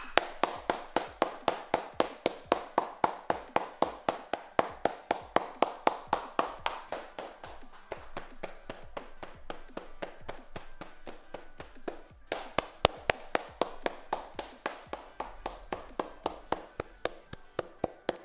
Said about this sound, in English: Stand up and give me a clap.